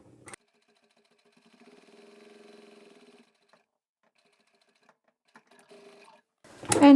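A sewing machine stitches a tab onto the outer fabric of an envelope clutch for a phone, giving one steady mid-length run of stitching with short starts and stops around it, fairly close and with no talk over it.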